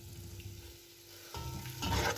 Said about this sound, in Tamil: தயிரை சேர்த்து இந்த மாதிரி நல்லா மிக்ஸ் பண்ணி ஒரு கொதிக்கிற மாதிரி விட்டுக்கொள்வோம்